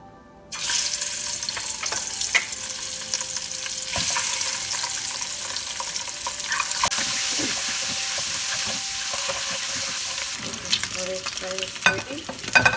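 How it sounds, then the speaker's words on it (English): Eggs frying in mustard oil in a pan give a loud, steady sizzle that starts abruptly and carries on throughout, close up and alone, with a few brief clicks and scrapes near the end. "Add 4 tablespoons mustard oil to fry the eggs"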